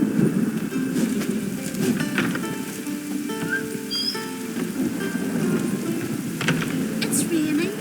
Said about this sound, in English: It's raining. Put on your tunic.